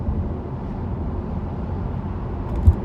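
Steady low road rumble of tyres from inside a Tesla Model 3 cruising at motorway speed, a continuous dull roar with no voices and one brief bump near the end.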